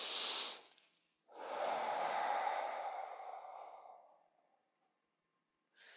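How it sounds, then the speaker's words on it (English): One person takes a slow, audible breath in, then lets out a long, soft exhale that trails off gradually, close and quiet with no talking. "This is a slow inhale to slow exhale."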